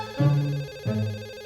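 Phone ringing indoors in a home, two distinct electronic ring tones in quick succession, clear and moderately loud with no talking over them.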